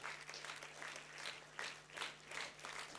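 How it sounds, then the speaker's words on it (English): Steady applause from a large audience at a university graduation convocation, dense even clapping that swells slightly in waves, heard from a distance and fairly faint, with no voices over it. "Keep the applause going"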